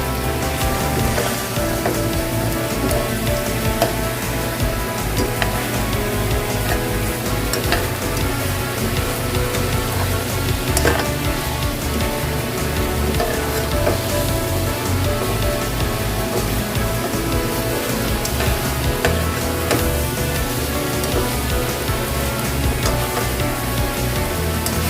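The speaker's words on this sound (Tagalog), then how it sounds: "Then mix it again." Chicken adobo sizzles and crackles steadily in a pan while being stirred, a dense, rain-like frying hiss running loud and unbroken throughout with faint scraping accents.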